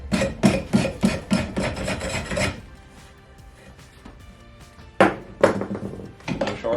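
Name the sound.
scraping an axe head during restoration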